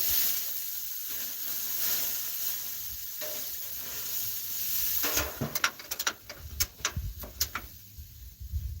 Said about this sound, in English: As I'm burning girls' burgers.